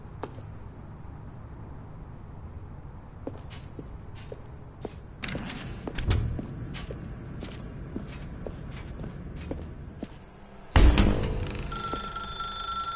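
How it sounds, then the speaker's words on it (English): In The Stanley Parable 2, a game telephone rings out in a dark room, with footsteps and faint thuds before it and a bright, sustained ringing tone near the end. "Now pick up the phone"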